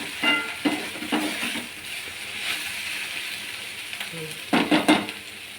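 Okra being stir-fried for a South Indian varuval, a steady hiss of frying in the pan with several scraping stirs of a spoon against the metal, close and moderately loud.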